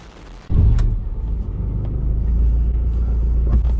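A Honda Civic EJ6 with the D16Y7 engine cranks and fires up after a brief quiet start, then settles into a loud, steady, close idle rumble.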